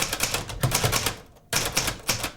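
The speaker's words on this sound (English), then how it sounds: "one of 4 which Ben has managed to hammer out on his antiquated typewriter" An old manual typewriter clatters in quick bursts of keystrokes, a brief pause, then another burst of steady mechanical tapping, close and fairly loud with no voices.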